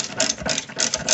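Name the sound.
ratchet removing 18mm caliper bracket bolts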